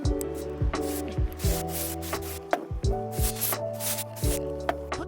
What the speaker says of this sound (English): Then spray the motor with the electronics cleaner.